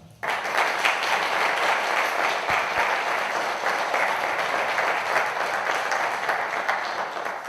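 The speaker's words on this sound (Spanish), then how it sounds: "mi aplauso va para Luis" Audience at a mystery conference in Zamora applauding after a talk, sustained even clapping starting abruptly and continuing steadily throughout, moderately loud with no voices on top.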